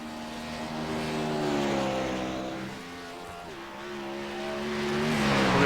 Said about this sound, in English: The 88 now coming up out of pit road. And hard onto the gas.